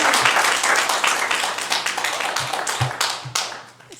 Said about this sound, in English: Can we please not have the clapping?